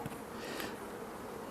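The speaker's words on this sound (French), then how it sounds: "Il y a des abeilles." Honey bees buzz at a hive holding a recovered swarm while a beekeeper works it. A soft, steady drone sounds close by and stays quiet and unbroken for a brief moment.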